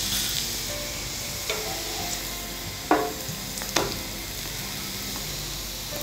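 Ragi and bottle gourd adai cooking on a hot pan gives a steady soft sizzle, with a few sharp clicks and scrapes from a spatula.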